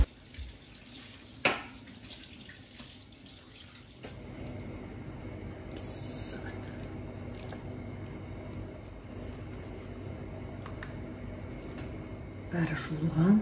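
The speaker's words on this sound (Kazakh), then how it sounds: "Қазанға салмас бұрын бәрін жақсылап жуып аламын." Meat and organs are rinsed under running water before going into the cooking pot: a steady stream of water flows for most of the stretch, with occasional clunks and brief handling noises.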